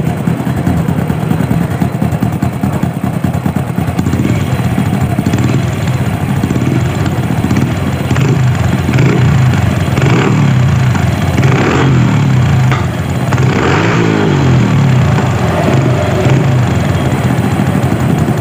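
A Honda Supra motorcycle idles with its exhaust popping and backfiring, a loud continuous rattling engine note broken by irregular sharp bursts through the middle, with no voices.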